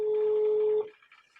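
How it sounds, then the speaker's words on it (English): Outgoing phone call ringing tone, a steady loud electronic tone lasting most of a second, then cutting off into faint line noise. "Can you hear the phone ringing, please?"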